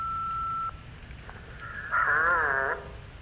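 A phone in the video game Duke Nukem Forever: a steady electronic tone for about half a second, a brief pause, then a louder warbling electronic tone that rises and sways before cutting off.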